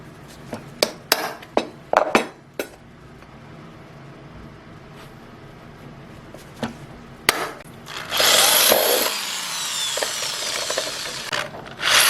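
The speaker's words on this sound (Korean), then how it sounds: "자 드릴이 있어야 되겠죠 드릴" A power drill bores through a small camping mini frying pan, a steady loud whine that begins after a run of sharp taps and clicks and continues to the end.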